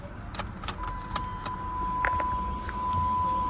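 Keys to a 2006 Dodge Charger Daytona with a HEMI jingle up close and a key slides into the ignition, a steady tone rising beneath the clinking.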